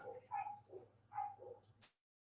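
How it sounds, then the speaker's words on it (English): Several household dogs barking and whimpering in short excited bursts, moderately close, with yips between the barks; the sound cuts off abruptly at the end. "dogs are going crazy"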